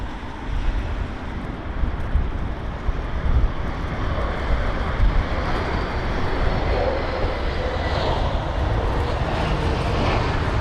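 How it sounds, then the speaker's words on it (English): An Air India Star Alliance jet at London Heathrow during Storm Henk, heard as a steady, loud engine roar that builds slightly, with heavy wind buffeting the microphone throughout and no talking. "Here's the Air India Star Alliance jet."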